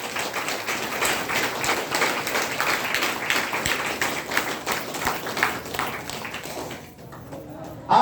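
An audience at a motivational talk claps together, dense continuous applause that holds for several seconds and then thins out near the end.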